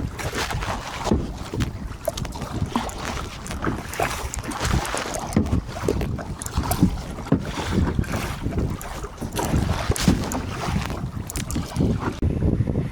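A rowboat is paddled on the water while squid fishing under a long bridge, with irregular splashing strokes and water lapping under steady gusts of wind buffeting the microphone.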